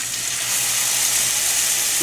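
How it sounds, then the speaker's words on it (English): Pork baby back ribs browning in a hot pan before pressure cooking give off a steady, close, continuous sizzle and frying hiss that holds for the whole stretch, with no voices over it. "Pan is nice and hot. So we're going ahead and nice little sizzle."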